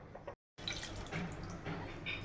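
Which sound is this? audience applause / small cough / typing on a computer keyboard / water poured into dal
water poured into dal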